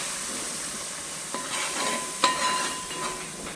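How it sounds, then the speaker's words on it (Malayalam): Blended tomato masala for soya biryani sizzles continuously in a hot pan, a soft steady frying hiss broken by a few metallic scrapes and clinks of a spoon stirring. "ഞാൻ രണ്ട് മീഡിയം തക്കാളി മിക്സിയിട്ടൊന്ന് അടിച്ചിട്ട് ഇട്ട് കൊടുത്തു"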